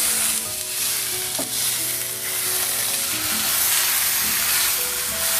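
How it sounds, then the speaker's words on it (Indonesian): Fish fries in a small amount of hot oil with a steady, dense sizzle and occasional crackles and stirring scrapes throughout. "Panaskan minyak dan goreng ikan ya teman-teman"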